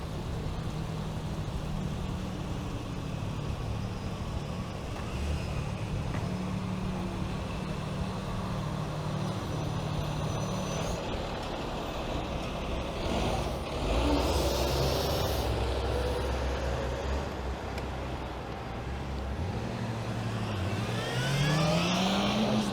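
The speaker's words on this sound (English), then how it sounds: "if I can avoid that truck I will" Truck and city traffic on a Toronto street heard from an e-scooter, a continuous roar of passing vehicles with engine rumble, swells as cars go by and a rising engine whine near the end.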